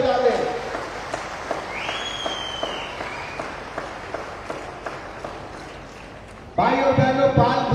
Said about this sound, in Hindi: एक बार इस भीड़ के लिए जोरदार तालियां सब मेरी ओर से बजा दें